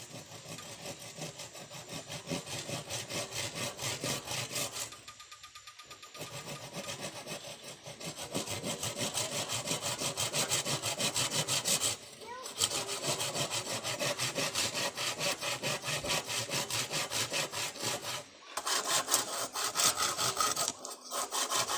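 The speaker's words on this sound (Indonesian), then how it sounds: "Tahapan keduanya adalah kita menggergaji sesuai dengan garis yang sudah kita" A hand saw cuts through bamboo in steady, rapid back-and-forth strokes, close and loud, with a few brief pauses between runs of rasping sawing.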